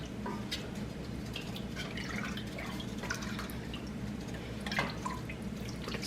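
Coconut milk being mixed up for a homemade soup, a soft, continuous wet sloshing with small drips and liquid patters over a low steady background hum, no talking.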